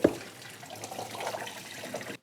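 Tap water runs to rinse canned hominy, a steady close splashing stream in a sink with a sharp clunk at the start and no talking.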